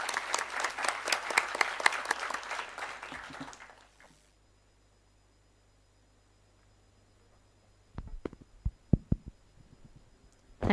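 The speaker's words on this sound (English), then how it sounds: "Can we have a huge round of applause for Ma'am?" Audience applause at a summit event, as a dean comes up to speak: a crowd claps for about four seconds and then stops. Silence follows, then a few scattered thumps and clicks.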